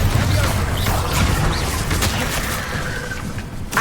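Bombarda explosion spells cast in a Harry Potter video game, a dense run of booming blasts and crashing impacts with sharp transients, loud and close amid continuous game effects, with voices in the background.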